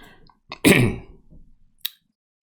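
A single harsh cough from a person in the final stages of an illness bursts out close by, followed by a brief throaty rasp and a short sharp sound, with quiet gaps around them.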